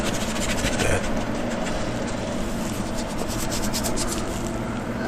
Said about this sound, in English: The glycerin is still somewhat wet, so you can smooth a lot of this out, rub it out of there